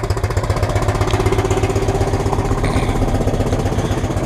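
An engine idles with a steady, rapid rhythmic putter, close and continuous with no change in pace.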